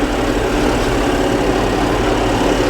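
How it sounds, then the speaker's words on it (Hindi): A tractor engine runs steadily while working in a field with the rear lift engaged, a loud, continuous low diesel drone with even rumble and no break, and no voices. "ये देखो, मोड़ के ऊपर भी कोई लीवर से छेड़छाड़ नहीं है, ट्रैक्टर एज इट इज चल रहा है।"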